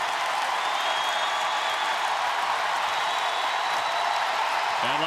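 Roaring basketball arena crowd at a women's college game, Indiana at Iowa, a steady loud wash of cheering and applause throughout with no break.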